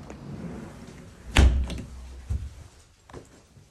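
A house door leading out to a lower deck patio shuts with a heavy, close thunk, followed by a softer knock a moment later and faint handling noise around it.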